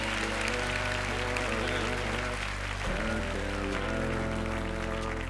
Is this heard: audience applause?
yes